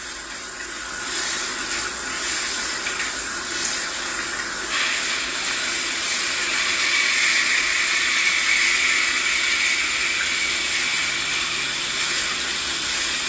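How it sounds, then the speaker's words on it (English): Running water from a salon sink rinses relaxer out of a client's hair, a steady broad hiss of spray that swells slightly midway and continues unbroken, close and fairly loud, with no talking. "So I'm gonna rinse out this first quadrant."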